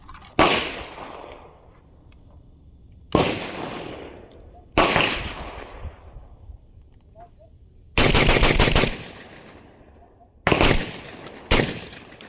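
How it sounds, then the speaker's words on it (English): A Beretta 1301 tactical semi-auto shotgun fires in loud, close bursts of quick shots, six sharp blasts spread across the stretch, each ringing off into a fading echo before the next. "I'm gonna try to shoot these kind of fast."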